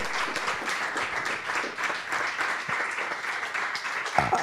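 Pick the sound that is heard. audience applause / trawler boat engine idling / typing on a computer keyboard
audience applause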